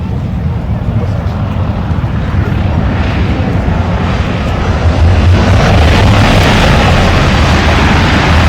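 A Lockheed Constellation piston airliner roars overhead at a dusk air show, a loud, broad rumble of radial engines that swells toward the end, with unburnt fuel flaring from the exhausts.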